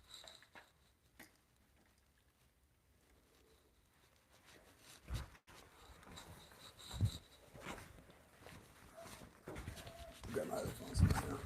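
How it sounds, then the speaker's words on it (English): Several dogs bark and whimper outside a home workshop during hand-tool timber work, the sounds faint and distant at first, then growing louder and more frequent toward the end, with scattered bursts. "Dogs are really after it today, man. Really barking."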